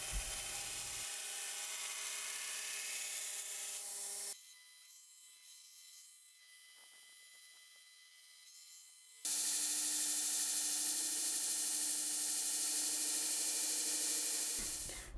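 A steel file being ground into a knife, its bevels roughed in against a grinder work rest, gives a steady close abrasive whine that cuts out for a few seconds and then returns just as loud.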